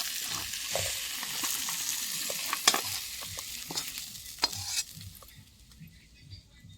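Chorchori, a vegetable dish, is stirred in a pan on the stove with soft sizzling, scraping strokes and a few sharp utensil clinks before the frying fades quieter toward the end.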